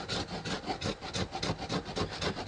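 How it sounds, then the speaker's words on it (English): Damp adhesive is scraped off rotted wooden flooring over an RV cab in quick, even strokes, a close, quiet rasping rhythm of about a dozen pulls. "It's that adhesive that just scrapes right up."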